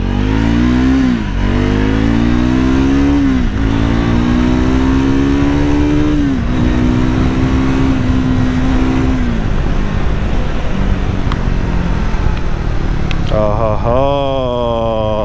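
A Triumph Scrambler 400 X motorcycle revving hard through the gears, loud and close, with rising engine tones broken by short shift dips and a final high rev near the end.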